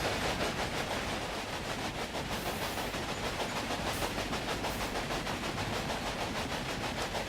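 A train running in the Railway Empire game, heard from aboard as a steady, loud rumbling roar with a faint rhythmic clatter throughout.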